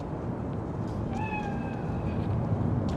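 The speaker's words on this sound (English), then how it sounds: "Chill, just a cat." In Cyberpunk 2077, a cat gives a single clear, rising meow over a constant low ambient game background, mid-distance and moderately loud.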